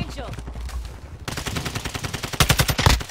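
Rapid automatic gunfire from the Warzone video game rattles in fast bursts, a quieter stretch giving way to denser, louder volleys near the end.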